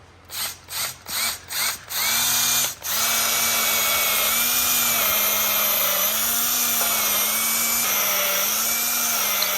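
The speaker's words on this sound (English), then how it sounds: "Do you always try to drill down the center, Garrett?" A power drill boring into wood pulses in several short bursts, then runs continuously at a steady whine, loud and close, its pitch wavering slightly as it bores.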